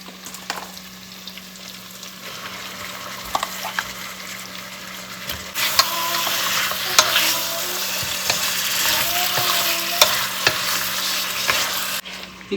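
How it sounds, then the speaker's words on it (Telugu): Mutton dropped into simmering masala in a pot for Donne biryani, then a steady loud sizzle and frying hiss with occasional clanks and scrapes of stirring, building in intensity, up close with no voices. "ఇప్పుడు మన స్టార్ ఐటెం"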